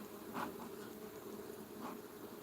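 Honeybees buzz softly inside an opened beehive box, a steady low-level hum with a couple of brief louder passes as individual bees fly close; no talking.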